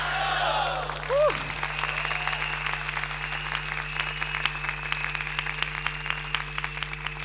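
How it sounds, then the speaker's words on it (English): An audience at a corporate kickstart event claps in a steady stream of applause, with scattered individual claps over a sustained hum and a brief whistle near the start. "then you give the loudest round of applause as you can"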